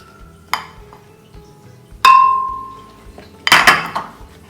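Ice cream scooped into a metal milkshake container for a cookies and cream shake, giving three sharp metallic clanks and knocks, one ringing out, close and loud with no talking.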